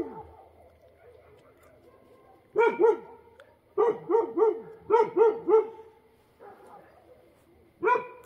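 Dogs bark nearby during a street posada procession in Mexico, in short bursts of two or three sharp barks, separated by quieter gaps with faint murmuring in the background.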